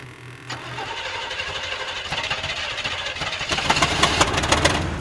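Old Acer laptop powering on with a loud cooling fan: a steady, fairly close whirring roar that starts after a brief quiet moment and grows louder and busier toward the end, with no talking.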